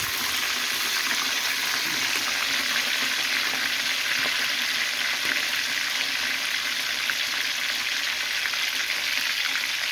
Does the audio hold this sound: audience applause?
no